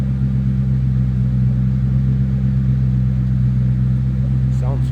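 1996 Ford Mustang GT coupe idling, heard from behind the car: a continuous deep, throaty exhaust rumble, close and steady.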